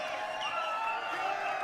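A crowd cheers and whoops at the 2012 Billiard World Cup of Trick Shot between USA and Europe, held in the Wolf Den, a continuous moderately loud roar of voices with applause.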